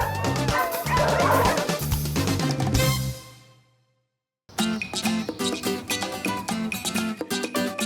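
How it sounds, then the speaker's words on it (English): Several dogs bark and yip excitedly as they are let out, dense overlapping barks that break off into a short silence and then resume in a quick rhythmic burst. "Start letting the dogs out. They are going to go crazy."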